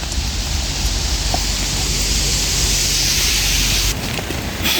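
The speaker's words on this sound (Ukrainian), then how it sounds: "Коротше, дощик іде." Steady rain falls around an outdoor carp-fishing spot, a continuous broadband hiss at moderate level with no speech, a brief louder patch near the end.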